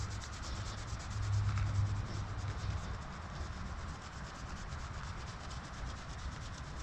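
A hand vigorously scratching a horse's shedding coat, a soft continuous rubbing and brushing noise, close but fairly quiet, with no talking.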